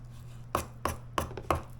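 A brand new, dollar-store knife chops through pork on a cutting board for a stir fry: four sharp, evenly spaced cuts, close and fairly quiet, with no talking.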